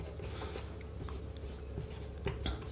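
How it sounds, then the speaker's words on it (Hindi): Faint, continuous scratching of writing on a board during a maths lesson on the area of a triangle, with soft strokes and light taps over a low room hum. "इसलिए मैं लिख रहा हूँ, अदरवाइज नहीं लिखता।"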